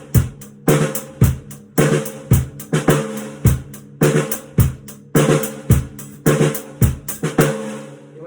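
Acoustic drum kit groove with bass drum on one and three under busy snare strokes, played fast at home; tight repeating patterns ring out close and loud, closing on a fading cymbal wash, with no talking.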